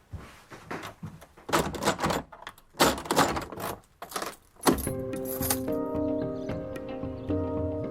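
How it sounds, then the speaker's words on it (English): A front door is handled and shut at home, with jangling, rattling clicks and bumps followed by a solid thud, then steady ringing tones continue afterward. "I'm just going to go shut the front door now."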